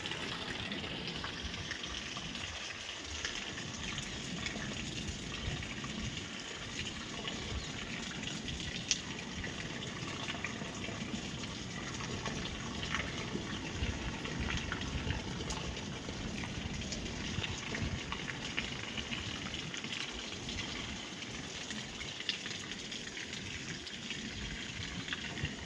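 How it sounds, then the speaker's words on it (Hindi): Rainwater drains out of a farm field with a kinnow plant in Ganganagar after heavy rain, a steady, quiet rushing trickle that runs unbroken throughout. "पानी निकल के बाहर जा रहा है,"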